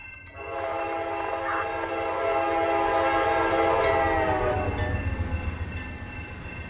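A K5LA horn on a CSX locomotive in the train simulator Run 8 sounds one long, loud, chordal blast for several seconds over the low rumble of the engine, then fades.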